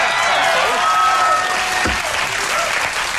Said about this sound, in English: I just got a group of people to applaud.